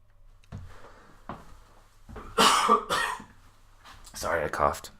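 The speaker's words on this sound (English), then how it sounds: "Sorry, I coughed. I didn't want to cough in the mic." A man coughs in a few short, close bursts, with other faint bumps and quiet room noise around them; no speech in between.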